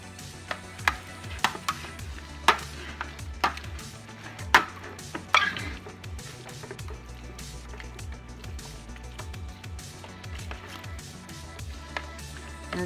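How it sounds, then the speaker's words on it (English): Shredded Colby and Monterey Jack cheese stirred into a stuffed spaghetti squash filling with shrimp, chicken and Alfredo sauce, giving a run of scraping, clicking utensil strokes against a bowl, sharper at first, then a steady low scrape. "So I'm gonna stir this around in there real good."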